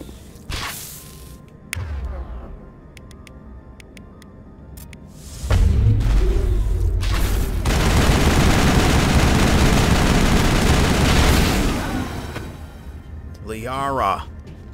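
Gunfire in Mass Effect 1: scattered sharp shots and whip-like zaps, then a long sustained roaring blast of fire, ending in a warbling sweep, with speech at points.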